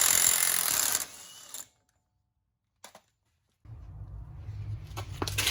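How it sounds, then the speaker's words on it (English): A 36 mm CV axle nut coming off a 2009 Chevy 4x4 truck with a 4.8 engine, heard as a harsh, loud buzzing power-tool burst, a short gap, then a lower steady mechanical whir close by. "Let's take this big old nut off on the CV axle."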